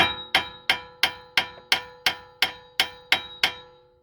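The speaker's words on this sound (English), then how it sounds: "Another one that I'll try right now is whacking it right here and hoping for the best." A hammer strikes a Mazda 5 front wheel bearing piece about eleven times in an even rhythm, each blow a sharp ringing metallic clank that decays quickly, close and alone.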